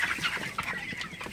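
Broiler chickens cluck in a farm shed during hot weather, with a close, continuous cluster of overlapping clucks and soft calls.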